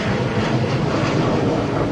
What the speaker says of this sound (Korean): 비행기 소리.